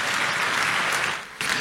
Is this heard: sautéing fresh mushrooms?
no